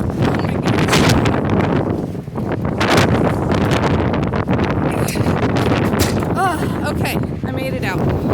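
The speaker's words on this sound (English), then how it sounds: "I can't even, there's so much wind." Strong, damaging outdoor wind buffets the microphone in loud, continuous roaring gusts in a dusty setting, with a person talking and exclaiming over it throughout.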